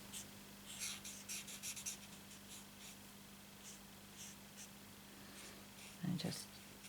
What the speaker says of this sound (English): I'm going to colour this one exactly the same as I did the first one.